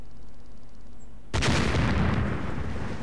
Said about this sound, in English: And throw a grenade over there.